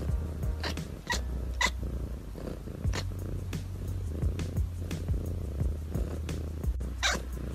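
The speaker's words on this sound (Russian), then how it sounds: "Тут они урчат, мурчат, мяукают и издают другие очень успокаивающие звуки." Cats purring with a continuous low rumble close up, joined by several short meows and other soft vocal sounds scattered over the steady purr.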